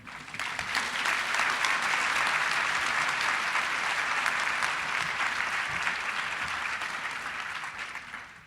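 Sustained audience applause welcoming a 2019 MLK scholarship recipient to the stage: dense, steady clapping from a large crowd that holds at full strength throughout before slightly tapering at the end.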